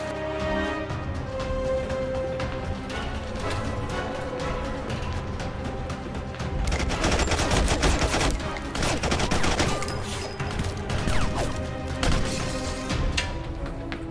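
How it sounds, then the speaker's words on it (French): Gunfire erupts in a film shootout, a dense volley of shots and blasts over a steady orchestral score, growing louder and busier in the second half. "On fonce et on tire."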